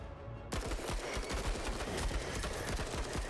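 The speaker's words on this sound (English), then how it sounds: "let's start with Sachin opening shots here" Dense rapid gunfire from the tactical video game Menace starts abruptly after a short pause and continues as a steady rattling stream of shots.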